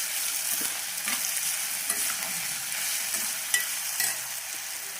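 Frying in a pan while cooking a Godavari-style fish curry, with a continuous close sizzle and occasional light scrapes of stirring, no voices.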